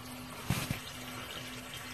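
Water runs from the drain line into a crawl space sump basin as a steady soft rush. Two short splashing thumps come early, over a low constant hum.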